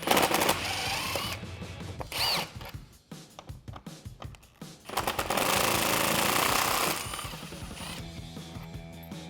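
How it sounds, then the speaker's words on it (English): An impact wrench with a 10mm socket removes bolts from the intake area of a Jeep Wrangler JL, giving loud, rattling hammering bursts that stop and restart between bolts, close to the microphone. "So I'm going to take a 10mm socket and my impact wrench and remove those."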